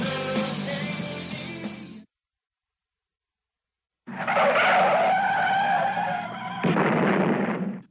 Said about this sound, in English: That was audio of Brian's actual car crash.